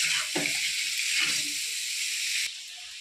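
Potato pieces and vegetable stalks frying in a pan, a close, bright sizzle with soft stirring scrapes. The sound drops lower and quieter near the end, with no talking.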